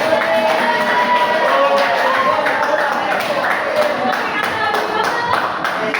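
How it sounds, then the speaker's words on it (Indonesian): Classroom students clap together in a steady, dense burst with excited voices and chatter mixed in throughout, loud and close. "Tepuk tangan buat saya."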